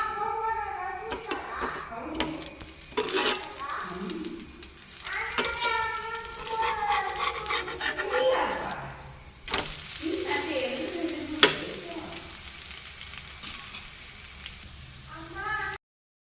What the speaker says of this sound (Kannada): ಇದು ನನ್ನ ಮೊದಲನೇ ರೊಟ್ಟಿ ನೋಡಿ ಬೇಯ್ತಾ ಇದೆ.